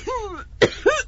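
A voice imitates an elderly mother's bad cough: a couple of harsh, throaty hacks after a strained, groaning breath, close and clear with nothing else around.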